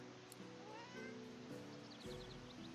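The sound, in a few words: cat meowing, from video game Divinity Original Sin 2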